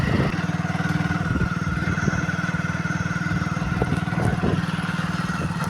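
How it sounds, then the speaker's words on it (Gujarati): A motorcycle rides along a road near Zinzuwada toward the Rann salt flats, its engine a steady close throbbing drone with occasional rattles and no talk. "ફાઇનલી આપણે બાઇકને નીકળી ગયા છીએ"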